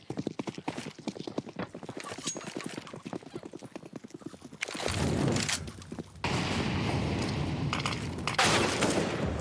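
Counter-Strike: Global Offensive gunfire on the Inferno map rattles in rapid repeated bursts, first as a fast clipped rhythm, then as denser, louder sustained shooting in a competitive match.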